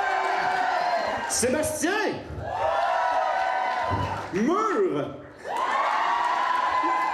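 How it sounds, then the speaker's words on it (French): A cosplay masquerade audience cheering, whooping and shouting in a big hall, with a steady loud crowd roar that swells and dips as voices call out over it. "Il applaudit pour n'importe quoi"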